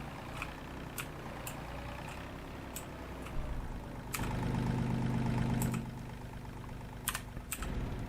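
A small, underpowered tractor idling in Farming Simulator 22, a low steady engine drone that swells louder for a couple of seconds, punctuated by sharp clicking taps.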